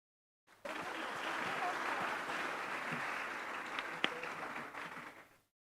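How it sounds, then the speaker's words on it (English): An audience at an international conference on food, agriculture and natural resources applauds professors, a steady wash of clapping that starts abruptly, holds for about five seconds with one sharp clap standing out, then fades away. "I think it is worth if we have give applause to them."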